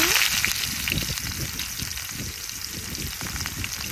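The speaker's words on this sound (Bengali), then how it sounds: "কাঁচামরিচ ভালোভাবে ভেজে নিই।" Chopped onion and whole cumin seeds fry in hot oil in a wok, a dense, even sizzle with crackling spatters close by and no talking.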